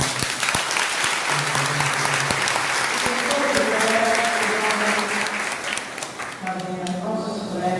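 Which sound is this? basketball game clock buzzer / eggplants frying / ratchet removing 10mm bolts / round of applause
round of applause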